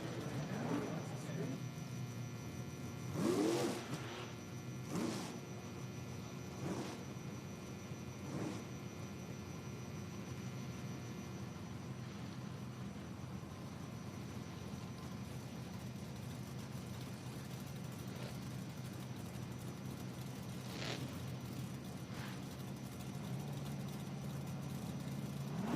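Pro Mod drag race cars, a Chevrolet Camaro and a Chevrolet Nova, roar down the strip at a qualifying meet, a continuous distant engine rumble with several sharp loud bursts early on and more later, under a commentator's voice.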